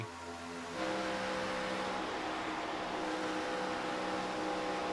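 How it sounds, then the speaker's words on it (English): Stock car at Talladega in a NASCAR-style race, engine droning loud and steady, its pitch shifting as the driver eases off the throttle heading into a corner, with the roar holding continuously throughout. "you can hear him lift actually heading off into the corner just to keep the car stable"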